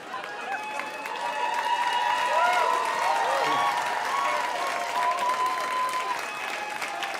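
Audience applause at a comedy show, a steady wash of clapping and crowd noise that holds throughout, with some voices and faint tonal sounds running over it.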